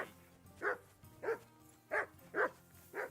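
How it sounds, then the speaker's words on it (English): Dog barking in the medieval video game Kingdom Come: Deliverance 2, five evenly spaced barks of moderate loudness over a low background hum, with no talking. "Call that dog, Henry."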